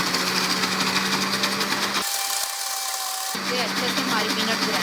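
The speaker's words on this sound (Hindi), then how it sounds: "ये अच्छे से हमारी पीनट ग्राइंड हो रही है" A mixer grinder churns peanuts into a homemade spread, a loud steady whirring motor that briefly cuts out mid-run before starting up again.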